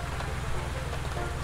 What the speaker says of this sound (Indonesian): di luar hujan lebat